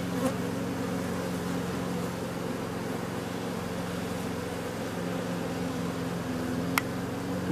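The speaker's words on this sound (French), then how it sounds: "Sinon les abeilles après elles sont agressives." Honey bees buzzing steadily around an open hive showing swarming fever during a beekeeping inspection, a dense continuous drone close by with no talking over it.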